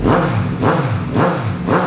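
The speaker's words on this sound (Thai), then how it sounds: "รอบเครื่องยนต์นี่อัตราเร่งดีนะครับไม่มีสะดุดแน่นอน" A 2017 Suzuki GSX-S750 motorcycle engine revs up and down in repeated cycles, a loud, steady mechanical roar rising and falling about three times with no talking.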